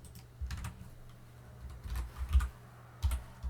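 Typing on a computer keyboard at a desk, several short bursts of key clicks spaced by brief pauses, close and fairly quiet against low background hum.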